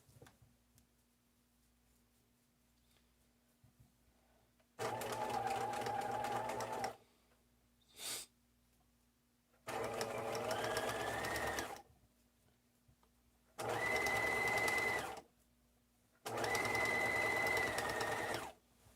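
A sewing machine stitches a satchel seam in four separate runs, each a few seconds of steady mechanical whirring and rapid needle clatter, with quiet pauses and a brief click between them.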